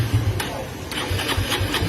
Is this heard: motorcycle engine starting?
yes